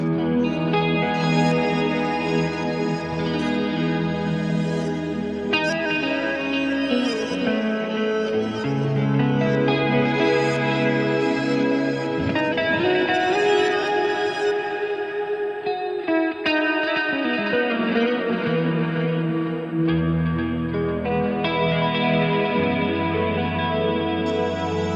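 Electric guitar run through a Fender ToneMaster Pro on a big ambient preset, sustained chords washing with heavy reverb, echo and chorus, steady and full throughout with no talking.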